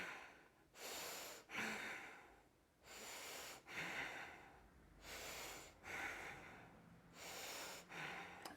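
Slow, deep breaths through the nose during a yoga prayer twist, about five soft, airy inhales and exhales in an even rhythm, close and quiet.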